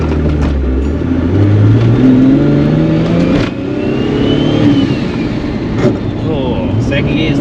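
A Toyota Supra mk4 with a refreshed Getrag V160 gearbox accelerating, the engine revving up and dropping between shifts, loud and close, with a voice talking briefly.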